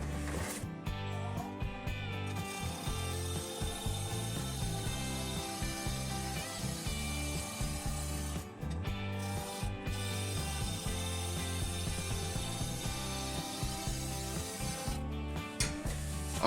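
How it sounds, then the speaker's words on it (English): A 3/8 inch bowl gouge cuts a maple bowl on a wood lathe spinning at 1000 RPM, giving a steady, continuous scraping and rasping drone with a few brief breaks in the cut. "Using a 3/8 inch bowl gouge at 1000 RPM."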